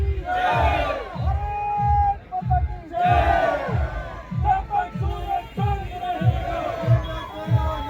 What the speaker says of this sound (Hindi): देखिए भारत माता के जयकारे लग रहे हैं।